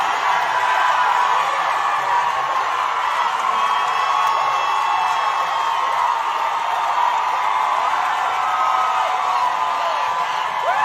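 A large audience at a Megan Thee Stallion show cheers, whoops and applauds in a dense, steady roar that holds at full volume without a break.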